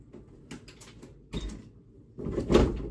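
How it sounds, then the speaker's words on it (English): A bedroom door closing indoors, a few faint scrapes and taps followed by a louder thump and latch near the end, close and quiet. "Closing my bedroom door"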